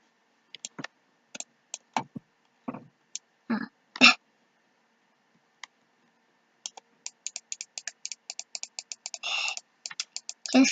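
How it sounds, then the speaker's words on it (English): Mouse clicks from playing the clicker game Youtuber Tycoon, sparse single taps at first, then rapid bursts of quick clicking, close and dry with silence between. "Just keep clicking."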